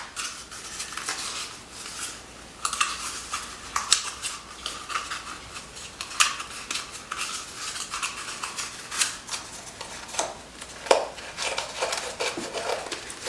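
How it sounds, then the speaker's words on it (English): Scissors cutting slits into cardboard toilet paper tubes for seed pots, a run of close, crisp snips and scraping rustles repeating irregularly throughout with no voices. "cut about a ½ inch up the bottom, and then, cut slits 4 around"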